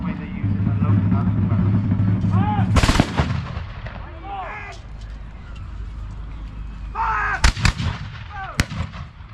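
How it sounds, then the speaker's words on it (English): French cannons firing at a battle reenactment, with a sharp heavy blast early, then a couple more booming shots and cracks later, amid a rumbling field of ambient noise and distant voices. "French guns still opening fire, however, not making much headway"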